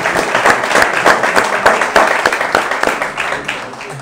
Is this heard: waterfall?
no